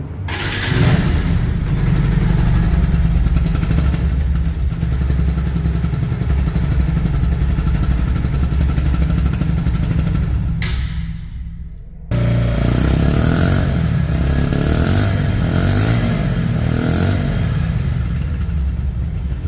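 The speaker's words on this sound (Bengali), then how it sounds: "রানিং অবস্থায় গাড়িটির সাউন্ড শুনতে পাচ্ছেন" A 2022 Pulsar motorcycle engine runs loud and close with a steady idle rumble, drops out briefly, then restarts and keeps running with some revving.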